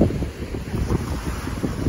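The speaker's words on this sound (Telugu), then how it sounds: "గోదావరిలో కూడా కెరటాలు చాలా ధాటిగా వస్తున్నాయి." Strong wind buffets the microphone on a sandy Godavari riverbank near moored boats, a continuous low roar with waves surging in uneven gusts, loud and close.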